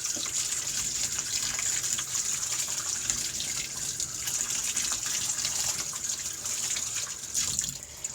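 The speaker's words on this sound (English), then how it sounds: "Now we're going to rinse this off as best as we can" Tap water gushes steadily into a sink while a paint-stripped model horse is rinsed under it, a continuous close splashing flow lasting throughout with no voices.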